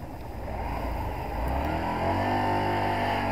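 A Honda Varadero 125 motorcycle on a road test after a carburetor clean and new float needles, its engine a steady nearby drone that slowly builds in pitch as it pulls away.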